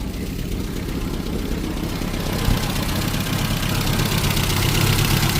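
A $500 Isuzu Trooper 4x4 engine runs steadily at a dense, rumbling idle, loud and close, holding an even drone with a slight swell near the end.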